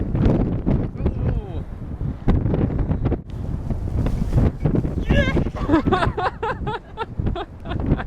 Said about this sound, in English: Lots of wind blowing up the snow.